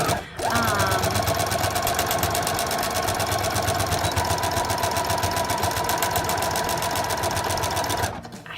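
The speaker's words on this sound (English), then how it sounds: "Definitely over sew my elastic waistbands because I don't want them to come off." A sewing machine runs fast and steadily for about eight seconds, stitching back and forth over the elastic waistband of ruffled leggings, a close, loud, even mechanical chatter that stops at the end.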